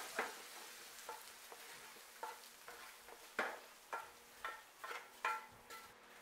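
Spoon stirring toasted white bread cornbread stuffing with a vegetable mixture and broth for a Thanksgiving meal, giving a series of soft, moist scraping and squelching strokes in an irregular rhythm, close and fairly quiet.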